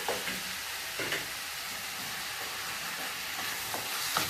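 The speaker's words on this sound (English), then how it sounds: "And you continue stirring until they mix well." Tomato puree being stirred into frying onions for a brown beef stew gives a steady, close sizzle with occasional scraping strokes of the spoon against the pan throughout.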